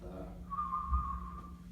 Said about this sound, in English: For instance, I have a whistle,